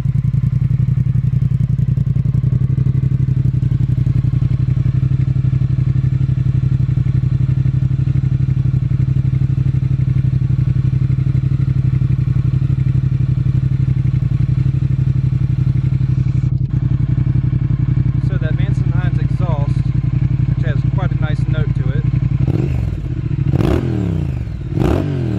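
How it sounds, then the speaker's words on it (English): A Triumph Thruxton R motorcycle engine starts and rumbles steadily at idle, close and loud, with clattering mechanical noises and a few knocks toward the end. "let's give her a start up and see how she sounds."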